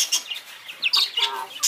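Farm broiler chickens around their feed, giving soft, close clucks and short high chirping calls in quick scattered bursts, alone without talk.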